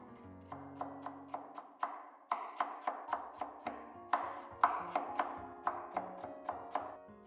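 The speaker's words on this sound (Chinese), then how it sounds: "一根去皮的胡萝卜先切片，再切丝" A knife chops a peeled carrot into slices and then strips on a board, with a steady run of crisp, evenly spaced taps that stays close and clear and speeds up slightly toward the end.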